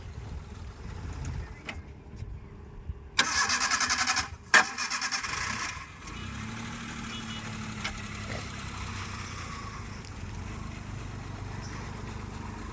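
A car reversing slowly during a driving lesson, its engine humming steadily up close, with a couple of louder revving bursts partway through before settling back to a low idle.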